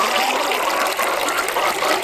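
Water flowing again after a little water is poured in, a loud, steady close-up gush and trickle with no talk.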